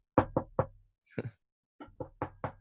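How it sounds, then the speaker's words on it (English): Several sharp knocks on a door by a delivery man, loud and close: a quick run of three raps, a brief softer double knock, then a steadier series of four, with silence between. "the bloke was knocking on his door"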